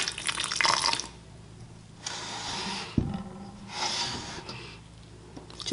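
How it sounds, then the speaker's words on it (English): Hot water pours from an electric kettle in a few separate bursts onto wool roving being dyed, a splashing stream that starts and stops, with quiet pauses between pours. "we're just going to go ahead and pour straight from the kettle onto here"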